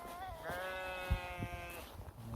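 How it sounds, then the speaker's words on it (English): A sheep bleats once in a long wavering cry, fairly close, during a wet, windy wild camp in the Lake District, with low rumbling background noise. "These sheep are not happy."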